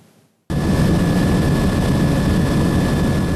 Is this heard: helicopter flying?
yes